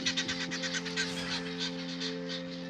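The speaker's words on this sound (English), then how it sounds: "the geese. They're my..." Geese honk repeatedly in a rapid, overlapping series, fairly close and moderately loud, over a steady low mechanical hum.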